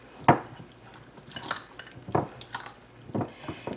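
Dip with prepared horseradish being stirred in a bowl, giving a few scattered clinks and scrapes of a utensil against the dish, close and fairly soft with pauses between strokes.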